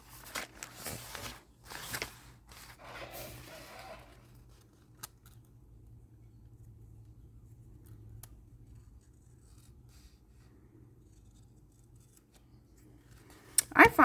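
Scissors trim paper tags at a craft table in a few quick snips and rustles at the start, followed by long near-silence and some handling noise at the end.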